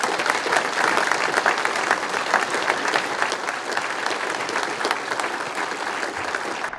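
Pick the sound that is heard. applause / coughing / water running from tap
applause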